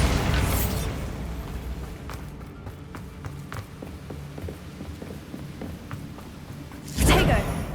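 A Bombarda blasting spell goes off in Hogwarts Legacy, a brief loud boom at the start and another burst near the end, with scattered thuds and footsteps of combat in between.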